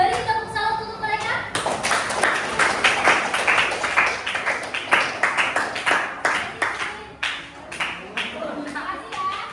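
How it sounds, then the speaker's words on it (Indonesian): Students in a classroom applaud a student group after their presentation, with a scattered burst of many hands clapping at close range that carries on for several seconds, mixed with chatter and voices throughout. "Boleh beri tepuk salut untuk mereka?"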